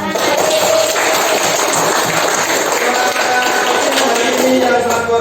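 A classroom group claps during a physics lesson on pressure at an academic supervision visit, producing dense, loud, continuous applause that stays even from start to finish.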